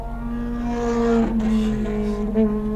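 A Nissan GT-R engine on a race track holds a steady, loud tone that swells and revs higher midway, with a brief surge near the end; no talking.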